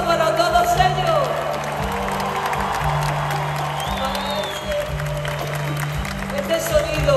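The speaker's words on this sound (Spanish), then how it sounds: "¡Ese aplauso para todos ellos!" A concert audience at a live orchestral pop show in Miami applauds the orchestra, steady clapping and crowd noise filling the space with a few whoops, while music and a voice carry on over it.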